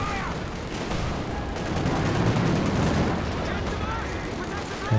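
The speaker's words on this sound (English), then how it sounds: "Can't clear out the machine gun." Dense rapid gunfire from a machine gun in Company of Heroes 2, a 4v4 match, rattling steadily for several seconds amid other battle noise, with a commentator's voice intermittently over it.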